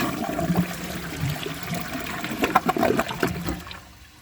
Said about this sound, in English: let's give this another flush and see if it could take the rest of that